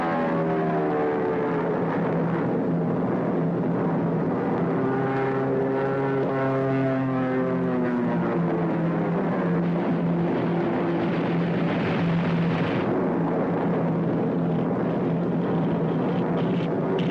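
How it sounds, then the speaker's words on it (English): A propeller aircraft's engine drones steadily and loudly throughout, its pitch wavering and sliding as the American plane goes down in flames in a 1940s film scene; no speech. "That's an American plane that's in flames."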